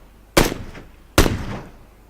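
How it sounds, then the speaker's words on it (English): Two sharp, loud SKS rifle shots in the PUBG Battlegrounds game ring out about a second apart, each with a quick cracking onset and a short echoing tail. "DJ Chris is noticing Pinky hiding in that compound and is trying to snipe him with SKS."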